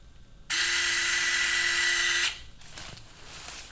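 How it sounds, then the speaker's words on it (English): A cannulated drill bit bores into bone during ankle fracture plating surgery, a loud, steady high-pitched whine lasting under two seconds that cuts off abruptly, leaving faint room noise. "Next, we'll use the cannulated drill bit"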